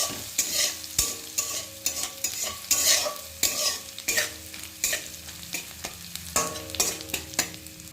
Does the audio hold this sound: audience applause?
no